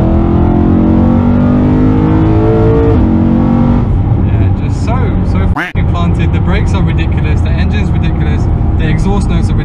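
A BMW M3 (E92 or E46) revving hard, its loud rising and falling engine and exhaust note climbing through the gears, followed by crackling, popping exhaust bursts, with a voice heard alongside.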